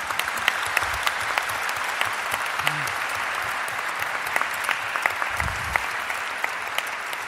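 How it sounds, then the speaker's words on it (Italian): An audience at a national assembly of civil law chambers in Florence gives warm, sustained applause. Dense clapping runs steadily throughout, with a few sharper individual claps and faint low murmurs underneath. "vi prego con un applauso caloroso"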